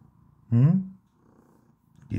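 A cat purring softly in a low, steady rumble, with a voice speaking briefly over it near the start.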